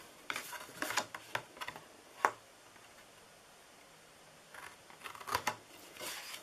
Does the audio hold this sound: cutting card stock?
yes